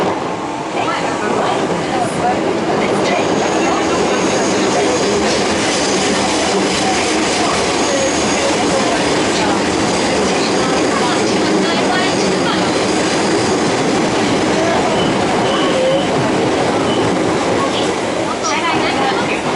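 An Osaka Metro 22 series train with Hitachi GTO control runs between Higashi-Umeda and Dainichi, heard from inside the car as a loud, steady rumbling roar with rail noise, continuous and close throughout.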